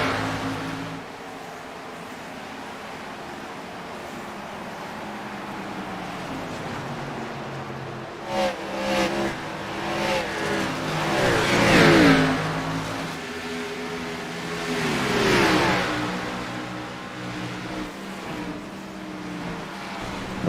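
Race cars roar past in a racing video game as drivers battle for sixth position, engines droning steadily then swelling in two loud revving surges before fading back.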